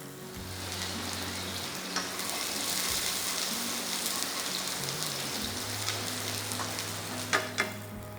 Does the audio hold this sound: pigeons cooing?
no